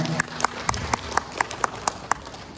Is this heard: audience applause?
yes